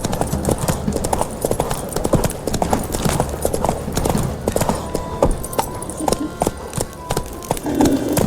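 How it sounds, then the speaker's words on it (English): Horse hooves clatter in a fast, continuous galloping rhythm in The Witcher 3, close and loud with a brief whinny, while voices speak over the running. "Time to water the horses."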